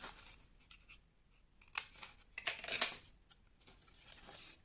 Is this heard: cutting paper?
yes